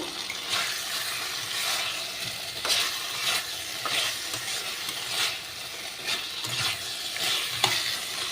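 Spice paste and potatoes fry and sizzle in a pan with steady stirring, a continuous close crackle broken by periodic scraping strokes.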